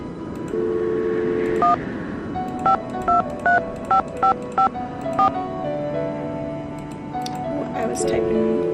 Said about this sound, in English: I was typing Bess's phone number